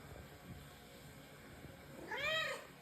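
A domestic cat lets out one clear, drawn-out meow near the end, preceded by quiet room shuffling.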